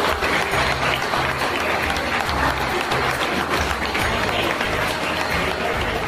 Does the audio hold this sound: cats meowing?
no